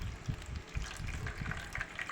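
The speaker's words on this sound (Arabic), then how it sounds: "حطيت كوبايه ميه كده تحت الفرخه في الصينيه" Water poured from a cup into a baking tray beneath a chicken sealed in an oven bag: a soft, quiet splashing gush that trickles on without a break.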